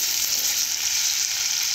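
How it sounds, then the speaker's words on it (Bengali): Potatoes fry in a pan until reddish-brown, giving a steady, close, even sizzle with no pauses and no talk. "খুব সুন্দরভাবে আলুগুলো ভাজা হয়ে গেছে"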